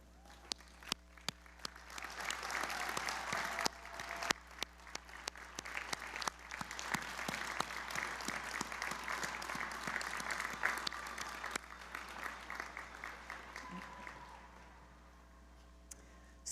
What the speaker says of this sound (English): Join me in applauding these students for their success.